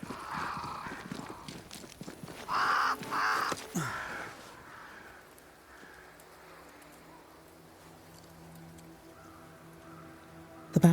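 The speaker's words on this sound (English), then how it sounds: "Crows. They flock to that great tree up there." Crows caw in a Banishers: Ghosts of New Eden game scene, a few harsh calls early on amid other game sounds, then the scene falls to a quiet ambient hum.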